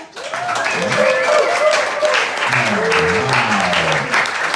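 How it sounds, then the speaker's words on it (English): Enthusiastic applause from a comedy show crowd, loud steady clapping with cheering and whooping voices rising over it. "give them a big round of applause"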